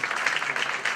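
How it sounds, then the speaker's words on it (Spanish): Brief burst of audience applause at a university ceremony, a dense, steady patter of many hands clapping, fairly loud and close, without talking. "y un fuerte aplauso"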